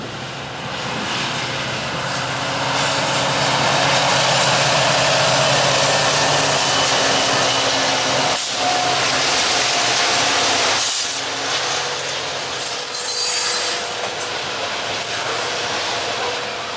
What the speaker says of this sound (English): This one is a grain train with an EMD SD78 leading in a Wells Fargo